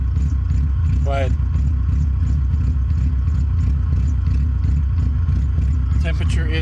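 A car engine idling on a stock P28 tune runs in a steady low rumble with light clatter throughout, while a person talks over it.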